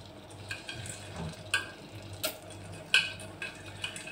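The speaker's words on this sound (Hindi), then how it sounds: "टमाटर के साथ मसालों के साथ भून लूंगी" Dal being fried with softened tomatoes and spices in a pan for Punjabi mixed dal tadka, giving a low steady sizzle with scattered light clicks and scrapes of stirring, no talking.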